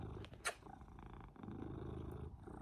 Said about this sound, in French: Vous entendez peut-être ronronner.